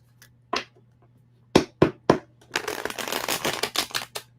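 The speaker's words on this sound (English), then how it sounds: "That was a clean shuffle." Tarot cards being shuffled: a few sharp separate snaps and taps, then a dense riffling burst of card flutter lasting a couple of seconds, close and alone over a faint steady hum.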